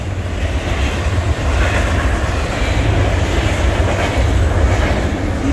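A loud, steady rumbling roar of a Canadian National freight train led by locomotive 3017 rolling past close by at Ladysmith, a continuous heavy low drone with rattling noise and no talk.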